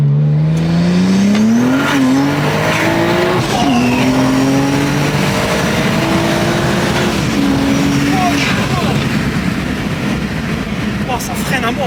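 A 600 hp BMW 135i E82 accelerates hard, its engine note rising through the gears with brief dips at each shift, loud and close from inside the car, with people talking over it.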